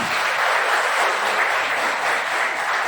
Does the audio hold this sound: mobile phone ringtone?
no